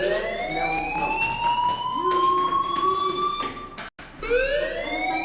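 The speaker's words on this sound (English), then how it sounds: "Hey, do you hear that fire alarm?" Fire alarm in the video game Life Is Strange, a loud, continuous electronic siren whose tone rises and falls in long sweeps, briefly cut off before sounding again.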